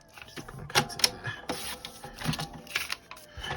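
A paper trimmer slices through a junk journal masterboard, giving a few sharp close-up clicks and short scraping strokes spaced irregularly, with no one talking.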